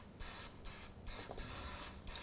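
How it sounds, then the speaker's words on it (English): Penetrant is sprayed from an aerosol can onto a car's ball joint, castle nut and pinch bolt area in several close, hissing bursts separated by short pauses. "I'm going to spray up the ball joint, castle nut area, and the pinch bolt area"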